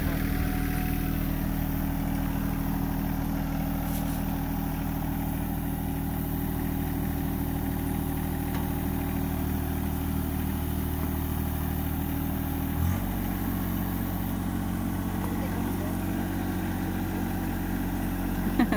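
A John Deere 1025R compact tractor idles steadily with a Titan 54-inch drum mower attached, a continuous low engine rumble with a slight shift in pitch partway through, and faint voices in the background.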